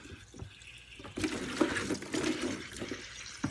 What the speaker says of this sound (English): So to rinse it, I'm going to just throw some water in here, like that.